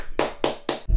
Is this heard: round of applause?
yes